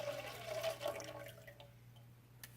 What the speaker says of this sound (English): you have to pour it into a styrofoam cup inside of a 400 milliliter beaker